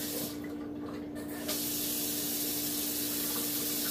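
Cold tap water runs into a cup for slime-making, a soft steady hiss of flow that swells slightly louder partway through and continues unbroken without talk.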